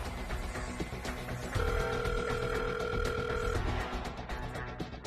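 A telephone ringing tone on an outgoing call sounds as a steady ring burst of about two seconds in the middle, over low room noise with faint background sounds before and after.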